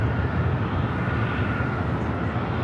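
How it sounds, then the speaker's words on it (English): A WestJet Boeing 737-800 jet passes with a loud, steady engine roar filling the short stretch, near and unbroken, with no talking. "That was WestJet coming in from Vancouver, flight 1698, 737 800."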